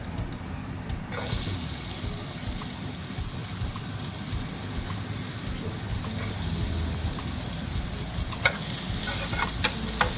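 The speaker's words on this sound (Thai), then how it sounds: "ทีนี้ครับเราจะใส่เป็นตัวหอมเข้าไปครับเราเอาไปผัดนะ" Aromatics stir-fried in a pan for spaghetti carbonara, a steady close sizzle with occasional sharp clicks of a utensil against the pan.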